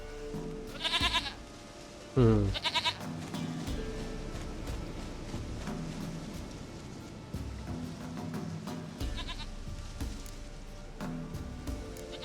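A goat bleats in The Witcher 3: Wild Hunt, several wavering bleats near the start and more later, over a continuous wash of outdoor game ambience.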